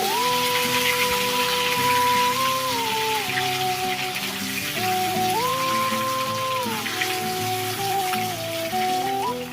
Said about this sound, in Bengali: এবার ডিমগুলোকে নাড়িয়ে চড়িয়ে